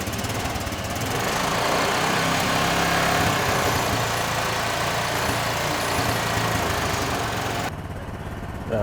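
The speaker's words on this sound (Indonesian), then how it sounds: "Berikutnya kita naikkan gas dari sepeda motor, kurang lebih RPM-nya di angka 2000." A motorcycle engine is revved and held near 2000 RPM during an emissions test, a loud, steady drone close by that drops off sharply near the end.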